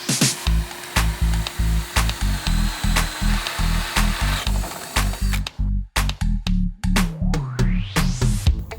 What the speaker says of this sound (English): I'm going to drill a 1 inch hole because I have a feeling that my holes, despite my best efforts, aren't going to line up perfectly